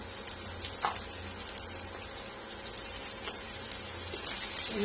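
Steady, gentle frying hiss from chopped onion in a pan, with occasional soft crackles and pops, close by and low in volume.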